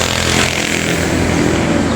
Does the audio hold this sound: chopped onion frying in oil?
no